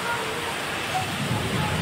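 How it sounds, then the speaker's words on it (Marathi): Heavy rain pours down in a steady, dense hiss during an unseasonal downpour, continuous and close with no voices. "बघा किती पाऊस आहे."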